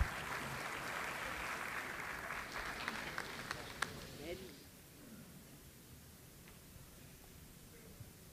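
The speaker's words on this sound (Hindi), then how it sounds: "ज़ोरदार तालियां हो जाएं जनाब गुलाम नबी आज़ाद" Applause from an audience at a birth centenary function in Jammu, a broad steady wash of clapping for about four seconds that cuts off and fades into quiet room noise.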